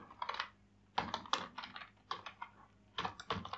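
Quick bursts of typing on a computer keyboard as JavaScript code is entered, clustered keystrokes separated by short pauses, close and clear with no voice over them.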